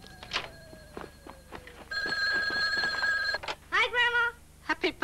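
Telephone ringing in a 1980 British TV advert, a repeated electronic ring that sounds in bursts over a soft background, fairly close and clear, with brief other sounds between the rings.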